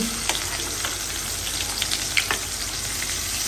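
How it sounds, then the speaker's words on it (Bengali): Meat fries in a pan with a steady close sizzle and scattered small pops and spatters, the hissing continuous and moderately quiet, with no voices. "এই মাংস ভাজতেছে প্রায় আধা ঘন্টা ধরে"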